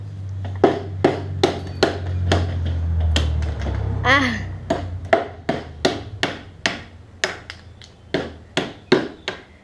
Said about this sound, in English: I'm holding the camera on one hand and then hammering.